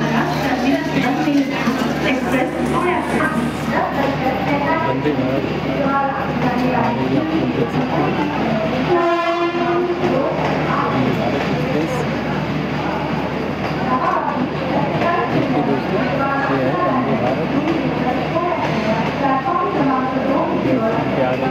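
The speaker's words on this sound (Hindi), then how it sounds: "तो मतलब तो ट्रेन लग गई है 10:50 की" Train pulling into a platform at Kalyan Junction railway station in India, a steady loud rumble of rail noise with a brief screech of brakes midway, crowd chatter and voices running underneath throughout.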